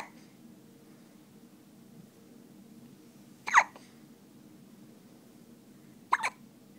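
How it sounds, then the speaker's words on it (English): Two close, sharp hiccups from a young child, the second arriving a few seconds after the first, each brief and clear over a faint room hum. "You got the hiccups."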